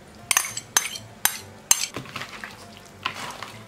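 Chicken drumsticks being mixed with marinade in a bowl: several sharp clinks of a utensil against the bowl in an uneven rhythm, with soft wet stirring between them, close and without speech.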